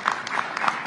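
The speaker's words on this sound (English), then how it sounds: "Give him a round of applause, Brian Gallagher." Brief burst of clapping from the crowd at a state governor's briefing on the Jennings Creek wildfire, a few distinct claps heard close and quick.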